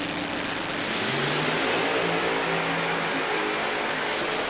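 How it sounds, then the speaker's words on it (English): Drag racing cars accelerating side by side at full throttle, a loud, dense roar with rising engine tones that stays steady throughout without talk. "A good side-by-side drag race."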